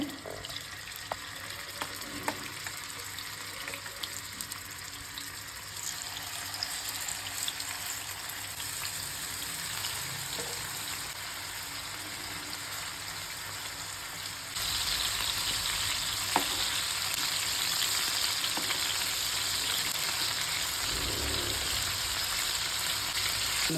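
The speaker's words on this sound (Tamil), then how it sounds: "தேங்காய் எண்ணெயில் தான் ஃப்ரை பண்ண போகிறேன்." Chicken shallow frying in coconut oil for butter chicken, a steady close sizzle and crackle throughout that grows louder and denser in the second half, with occasional stirring and no talk.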